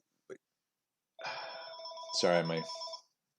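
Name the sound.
telephone ringing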